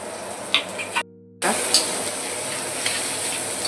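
Chopped tomatoes with chilli powder and salt sizzle softly as they sauté in a pan, a steady frying hiss broken by a brief stir and a moment of silence.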